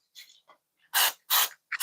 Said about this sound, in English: hit that with a little bit of a spray.